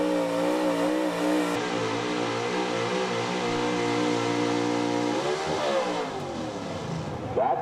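A square-body Chevy pulling truck roars down the track at a truck and tractor pull, its engine revving hard and steady, loud and close, with the pitch climbing and wavering before easing near the end.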